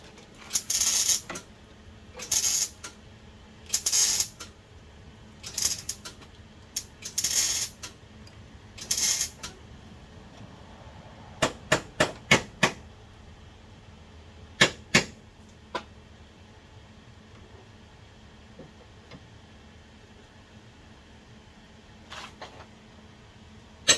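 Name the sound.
crescent wrench removing proportioning valve, Honda CRX engine bay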